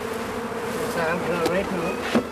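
A dense, steady hum of many honeybees fills the air around a smoked hive in West Cork, close and loud, with brief louder buzzes of single bees passing near.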